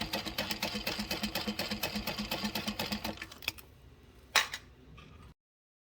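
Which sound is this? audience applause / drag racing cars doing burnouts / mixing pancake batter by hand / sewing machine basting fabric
sewing machine basting fabric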